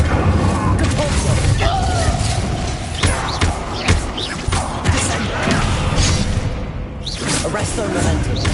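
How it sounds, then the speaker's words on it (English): Spell-casting effects from the video game Hogwarts Legacy, Incendio fire and Compulso force spells, erupt as repeated whooshes, booms and crashing impacts in a dense, loud combat mix under a spoken voice. "Incendio! Compulso!"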